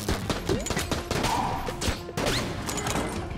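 Gunfire from a gun in the video game Enter the Gungeon, a busy run of sharp bursts and impacts layered over game effects and music, loud and close throughout.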